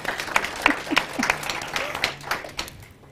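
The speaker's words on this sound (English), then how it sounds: "Can we give her a round of applause as well?" Light applause from a small audience at a youth panel discussion in Southern Africa, a handful of scattered claps that thin out over about three seconds, fairly quiet and heard on its own.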